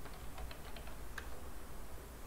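Quiet keystrokes on a computer keyboard as a command is typed, a short run of soft, closely spaced clicks over a faint background hum.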